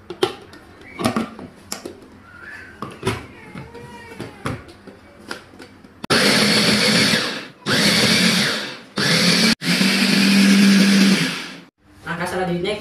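A blender grinds soaked soybeans with water to make soy milk. After a stretch of quieter kitchen sounds and talk, it runs loud and close in several long bursts with short pauses between them.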